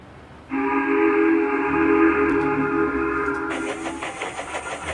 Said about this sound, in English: then he heard the whistle